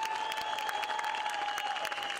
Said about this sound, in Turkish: 3 deyince kocaman bir alkışlayalım mı Türkiye'yi?